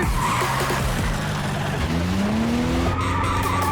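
A car skids with a loud, sustained tire squeal that sweeps up in pitch, set over a busy film soundtrack, continuous and close for several seconds.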